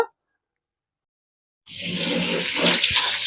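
Running water pours steadily over an air conditioner's dust-clogged filter mesh, rinsing it clean at home, a continuous close splashing rush that starts abruptly after a silent pause and holds without talk.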